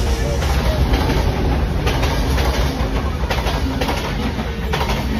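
The Padma Express train between Rajshahi and Dhaka runs on rails in a loud, steady rumble with recurring clickety-clack wheel beats, heard up close throughout.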